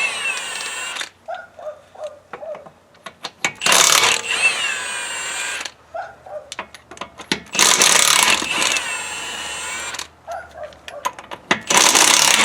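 A ratchet wrench loosens the lug nuts on a Mustang GT's wheel, with rapid clicking pawl ratchets in bursts, interspersed with heavier metallic cranking, close up and loud.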